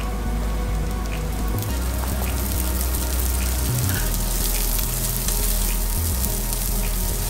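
Shredded cabbage sizzling in a hot frying pan for spicy chowmein, a dense, steady hiss close up with a few low thumps of tossing or stirring, no voices.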